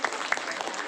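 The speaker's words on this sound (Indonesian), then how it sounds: "naik tepuk tangan" A brief burst of clapping from a small group, close by and lively, with voices murmuring underneath.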